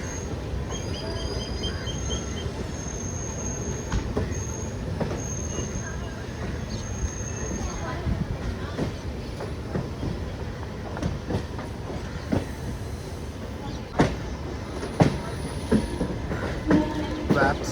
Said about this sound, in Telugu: అటు నుంచి ఏదో ట్రైన్ బయలుదేరింది.